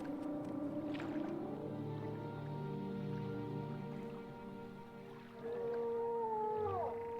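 A silt strider's long, low moaning howl from the game Morrowind, played in OpenMW, rising and bending in pitch over a steady droning ambience, with a second wavering call near the end.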